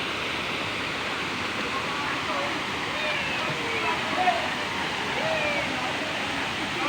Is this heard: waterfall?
yes